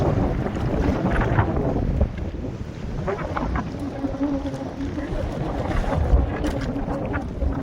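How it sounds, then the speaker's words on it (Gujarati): Strong wind buffets the microphone in a steady roar on a small fishing boat at sea, with water and boat noise underneath and voices talking faintly in the background. "પવન સડસડાટ કરતો નીકળ્યો"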